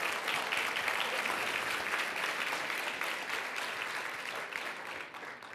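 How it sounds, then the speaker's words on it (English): A crowd at a Latino State of the Union policy roundtable claps for board members after a sponsor acknowledgment, giving a soft, steady, distant round of applause that holds evenly for several seconds. "You can applaud now."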